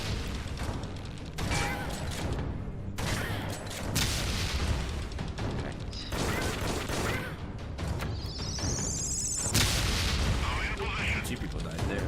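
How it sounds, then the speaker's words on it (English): A thrown grenade explodes in the game Dead Effect 2 amid a dense run of loud booms and crashing impacts, with speech mixed in. "you can just throw a grenade, which can be useful. I haven't shown off the grenade yet. There's a grenade."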